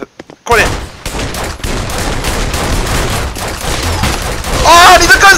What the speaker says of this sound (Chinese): 你没看到我在开枪哦？